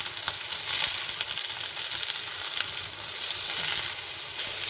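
Ridge gourd fries with onions in a pan, giving a continuous bright, hissing sizzle that stays close and steady with no pauses.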